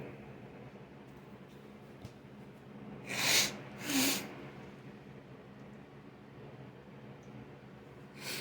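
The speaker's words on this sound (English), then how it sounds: "I got to blow my nose" Two short, breathy blasts of a nose being blown close by, around a second apart, over a quiet room hiss.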